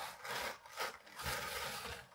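A hand-cranked EEW prototype drum carder produces a soft, continuous rubbing whir that swells and fades in a rhythm with each turn of the crank, close and fairly quiet.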